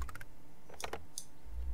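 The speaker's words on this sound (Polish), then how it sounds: "To zadzwońmy po Basię" Telephone dialing in The Sims 1: a quick series of short tonal key beeps in a burst, then a brief pause, more clicky tones and a low thump at the end.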